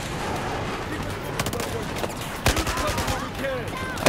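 Gunfire from a big gun in Battlefield 4, a string of sharp shots spread over a few seconds, some clustered in quick bursts, loud against a busy game background with a voice talking in places.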